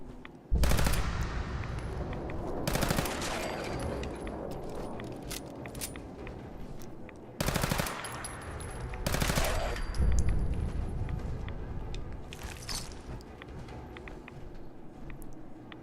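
Bursts of loud automatic gunfire in Fallout 4, several short rapid volleys separated by stretches of quieter background rumble and movement.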